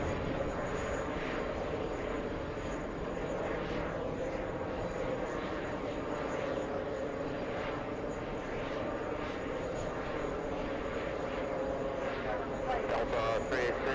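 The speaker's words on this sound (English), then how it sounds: "JetBlue 2841 flying to Savannah, Georgia." A JetBlue airliner departs with a steady, continuous engine roar while someone talks over it throughout.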